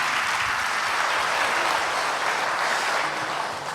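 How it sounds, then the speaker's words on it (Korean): Congregation applause fills a church service, a dense, steady burst of clapping from many hands lasting a few seconds before easing off slightly at the end. "우리 큰 박수로 집사님께 큰 박수 드리겠습니다"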